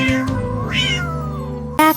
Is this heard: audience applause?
no